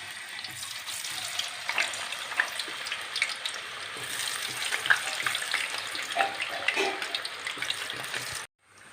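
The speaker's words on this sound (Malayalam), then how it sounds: "ചൂടായ ശേഷം നമുക്ക് കാ വറുത്തെടുക്കാം" Slices of raw banana fry in hot coconut oil, a steady dense sizzle and crackle close up that holds throughout and cuts off abruptly near the end.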